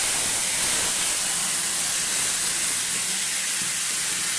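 Marinated goat meat hits a hot pan with dry whole spices, bursting into a loud, steady, close-up sizzle and hiss that continues unbroken with no talking.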